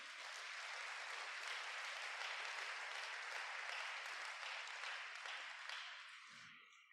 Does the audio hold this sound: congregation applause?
yes